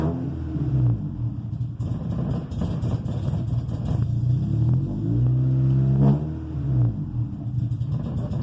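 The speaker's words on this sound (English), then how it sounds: "See, it revs up there and runs normal, and then it goes back down and runs like shit." A 1995 Honda Civic coupe engine, cold and running rough after a hard start, rumbles unevenly and surges in revs several times before dropping back, heard close with no talking.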